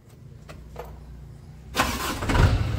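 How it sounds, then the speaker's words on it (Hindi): A truck converted into a motorhome is cranked with its self-starter. A few faint clicks come first, then the engine catches and runs loud and close for the final second. "ये देखते हैं कितने सेल्फ में स्टार्ट होती है"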